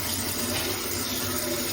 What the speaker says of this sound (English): Then pour some water.